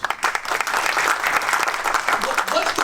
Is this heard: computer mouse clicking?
no